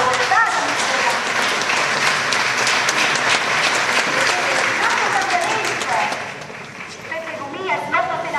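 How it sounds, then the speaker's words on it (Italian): Theatre audience applauding steadily and loudly throughout at a political campaign event for the 2014 European elections, with dense sustained clapping and some voices mixed in near the end. "È un applauso lo vuole dare a Michela"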